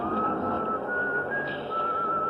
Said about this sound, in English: Over the noise, I hear some contented soul whistling.